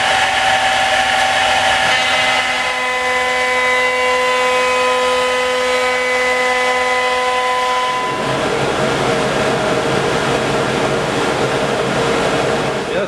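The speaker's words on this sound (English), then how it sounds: "I just put them in the CNC and I'm manually just cutting straight lines on them" A CNC router cuts straight edges on walnut boards, a loud continuous whine with steady tones that shifts partway through into a broader, rougher cutting roar, constant throughout.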